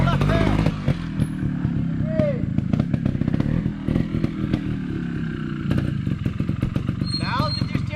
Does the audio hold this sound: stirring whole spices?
no